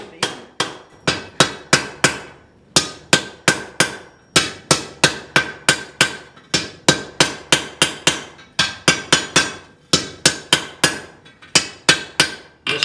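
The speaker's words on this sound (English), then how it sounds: "We're going to come over to the anvil." A blacksmith hammers hot iron on an anvil for a tripod, sharp ringing strikes landing in quick regular runs of three to five blows with brief pauses between, loud and close.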